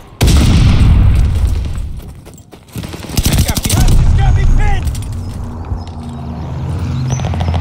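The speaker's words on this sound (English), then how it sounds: "Toss the stun grenade." A stun grenade goes off in Call of Duty Vanguard's Eagle's Nest team deathmatch, a loud boom amid heavy surrounding gunfire and blasts, with crackling bursts, rumbling echoes and a lingering battlefield din.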